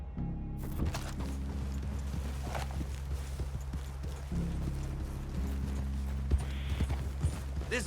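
Horse hooves clip-clop steadily in the western game Red Dead Redemption 2, a continuous rhythmic plodding of several mounts heard close over a low rumbling ambience and music bed, with no talk over it.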